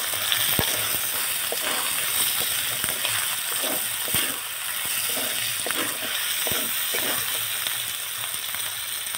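Bay leaves sizzle and crackle in hot oil with chopped tomato and capsicum for a meat curry with home-grown potatoes, a steady dense frying hiss broken by a few sharp ticks and stirring clicks, close and continuous.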